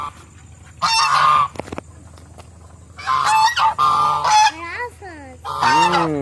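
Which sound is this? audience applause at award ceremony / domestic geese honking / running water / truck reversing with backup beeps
domestic geese honking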